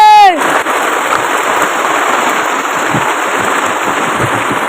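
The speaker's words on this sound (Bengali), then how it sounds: "বৃষ্টি পড়ছে বিশাল জোরে।" Heavy rain of a thunderstorm pours steadily in a dense, unbroken hiss, loud and close, drumming on a tin roof after a brief opening tone.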